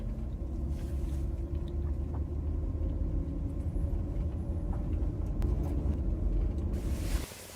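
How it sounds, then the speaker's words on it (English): A 2003-2005 Range Rover is put in gear and pulls forward, giving a low steady engine rumble that drops away abruptly near the end. "I'm gonna put it in gear and start pulling forward"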